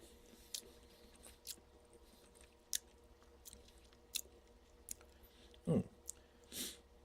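Someone chews limited edition MacSween's haggis, soft close mouth noises with occasional sharper clicks and squishes spaced irregularly, quiet and intimate with no talk.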